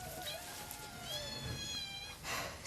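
A cat meows several times in quick succession, close by, its drawn-out cries rising and falling over faint room noise.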